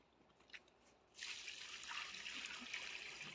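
Water from an opened tap suddenly starts running after a second of quiet, a steady trickling hiss that stays fairly loud for the rest of the clip, with no talk over it.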